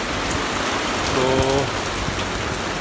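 Steady rain falls throughout a Dubai rainstorm, a dense continuous hiss of drops hitting surfaces close by, with a brief faint tonal sound in the middle.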